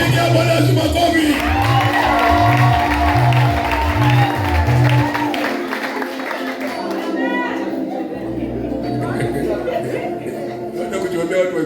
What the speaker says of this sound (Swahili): Piga Bwana Yesu makofi.